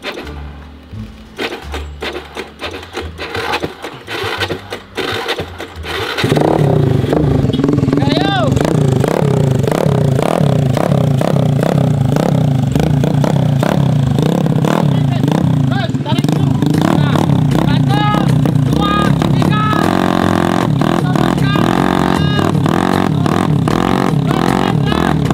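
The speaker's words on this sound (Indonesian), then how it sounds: "Motor dragnya ini kuat banget" A drag-tuned motorcycle engine revving hard, starting after some sputtering attempts and then running loud and continuous up close with rhythmic throttle blips, with people talking in the background.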